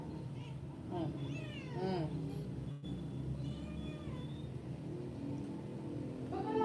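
A cat meows several times with rising and falling cries, close by, mixed with people talking in the background.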